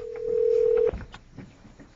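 A telephone call being placed, with a steady tone cutting off abruptly, followed by faint line clicks and quiet ringing, with no voices.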